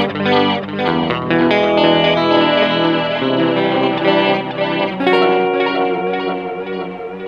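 Electric guitar played through an 8Note Chrono Tap delay pedal set with light chorus, sustained chords and notes ringing continuously with a shimmering, slightly overdriven wash and repeating echoes, loud and up close with no talking.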